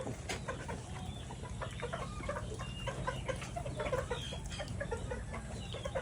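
Free-range backyard chickens cluck and chatter continuously, several birds close by, with steady overlapping calls over a low background hum throughout.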